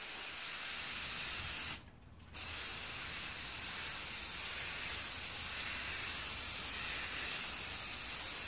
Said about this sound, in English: then I'm going to spray the heck out of this thing.